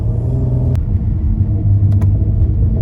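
7th gen Nissan Maxima exhaust after an upshift, a steady loud low rumble with the engine note dropping partway through, then a couple of brief sharp crackles near the end.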